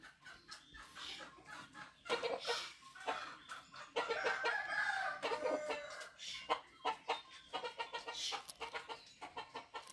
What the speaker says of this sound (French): Monsieur le coq, qui est là-bas?